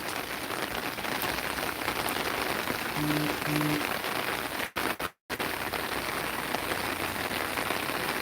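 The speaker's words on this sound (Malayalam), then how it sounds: "ഇപ്പോൾ ഇവിടെ നല്ല മഴ പെയ്തുകൊണ്ടിരിക്കുകയാണ് നമ്മുടെ വീട്ടിൽ" Heavy rain pours steadily on a surface, dense and continuous, with a brief dropout partway through and a faint tone in the background.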